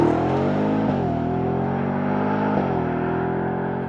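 A Ford F-150 Raptor R pickup's 5.2-liter supercharged V8 pulls hard from a launch, a steady loud engine roar with two brief dips as it shifts gears, heard from inside the cab.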